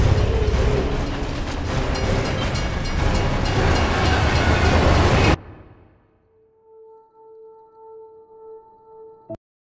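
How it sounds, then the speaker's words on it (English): A train roars past loudly with heavy rumbling and clatter in the Gears of War 3 video game on Xbox 360, then cuts off abruptly, leaving a low humming tone and faint mechanical sounds. "Jack, it's a bloody train coming the other way."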